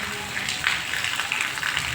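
Heavy rain pours down in a dense, steady wash of hiss and patter, heard nearby beside a parked camper.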